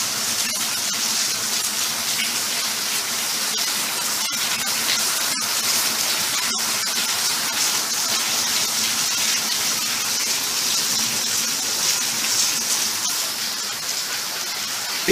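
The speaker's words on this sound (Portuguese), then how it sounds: "Olha o barulho da chuva chegando." Heavy rain pours down steadily, a loud continuous hiss of water hitting surfaces outside a house, dense and unbroken with a few sharper knocks mixed in.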